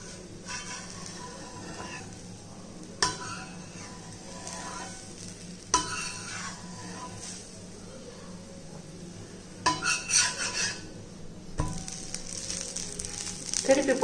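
A weight-loss dosa frying in ghee on a pan over medium heat, a steady close sizzle with a few sharp scraping and turning clatters of a spatula on the pan, occasional voice in the background.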